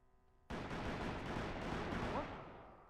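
A sudden loud gunshot blast in the video game Call of Juarez bursts in and rolls into a sustained rumbling roar of gunfire that slowly fades.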